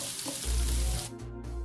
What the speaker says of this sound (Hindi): हमें प्याज को फ्राई करना है।